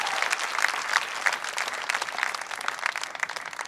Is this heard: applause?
yes